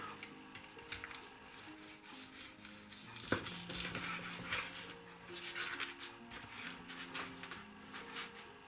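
A knife slices through black pork brawn (salceson), giving soft repeated scraping and rubbing strokes against a board with light clinks, close and fairly quiet.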